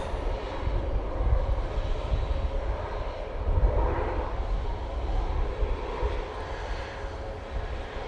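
A Boeing 737 MAX 8 at Manchester Airport roars steadily from a moderate distance, swelling slightly midway before easing off, with no voices.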